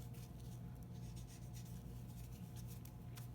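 Pencil drawing of a folded paper crane for a collage still life, with soft scratchy strokes rubbing back and forth across paper, steady and quiet throughout.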